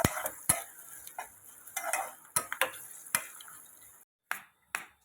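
Raw mango pulihora rice being mixed in a pan, with close, intermittent scrapes and clinks of a spoon against metal in an irregular rhythm and short quiet gaps between strokes.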